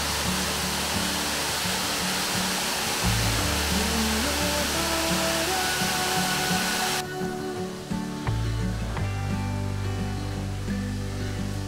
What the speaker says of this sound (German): Der Brakkafallet ist ein wunderschöner kleiner Wasserfall, der durch eine märchenhafte Trollschlucht aus Schieferfelsen fließt